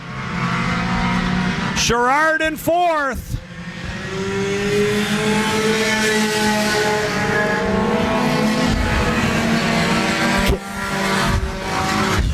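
Race cars roar around Laird Raceway on a Thursday night, engines loud and continuous, with a sharp rising rev midway and cars sweeping past, while an announcer calls the action over the top.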